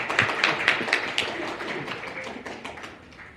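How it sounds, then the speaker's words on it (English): Audience clapping at a youth climate town hall, a scattered burst of hand claps that starts fairly close and brisk, then thins into a softer, fading patter. "The good old clap out"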